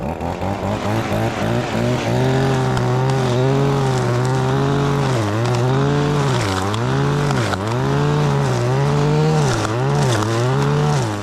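Close and loud, an industrial string trimmer's small two-stroke engine warms up with a continuous buzzing drone. Repeated throttle blips make the pitch dip and rise in a wavering pattern, with no talk over it.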